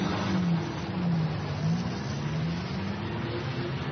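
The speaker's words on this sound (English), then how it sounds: "There goes the leader's car." A car pulls away in an old-time radio drama sound effect. The engine drones steadily with a slowly wavering hum, fairly close and continuous throughout, with no voices over it.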